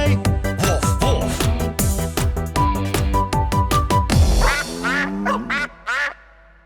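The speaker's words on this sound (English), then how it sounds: "What does a duck say?" Duck quacks follow a bouncy, rhythmic run of children's song music, with a few close, nasal quacks sounding near the end as the music stops.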